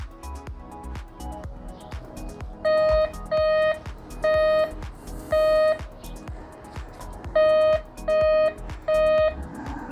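A waterproof metal detector is swept over a silver chain and gives a series of loud, steady electronic beeps in short bursts. Background rustling and handling noise sit underneath, with no clear speech.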